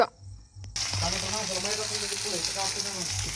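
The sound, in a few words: onion being fried for onion chutney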